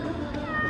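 A cat meows in a single short call at close range, standing out over a busy outdoor background of street noise with a faint voice nearby, in Antalya, Turkey.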